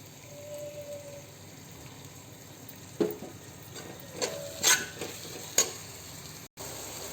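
Chicken biryani marinade being stirred and mixed with salt: soft, wet squelching and scraping with a few sharper clinks, steady and close, with no talking.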